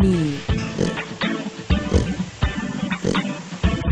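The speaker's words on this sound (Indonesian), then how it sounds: "Babi." A pig grunting and oinking in a rapid, uneven series of short snorts, moderately loud and close, with rough noisy texture throughout.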